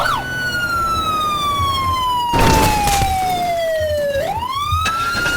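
Ambulance siren in the video game Teardown wails in long falling and rising sweeps, loud and close, with a brief burst of noise midway.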